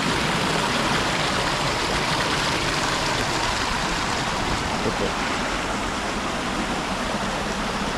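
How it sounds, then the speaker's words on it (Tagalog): A continuous rushing of flowing spring-fed stream water, steady and fairly close, with no pauses or voices. "Literal na ilog na talaga, no?"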